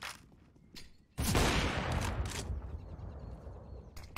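On the Inferno map in Counter-Strike, a competitive match produces a sudden, loud burst of close gunfire and a fiery roar that keeps going, with scattered quieter shots before and after.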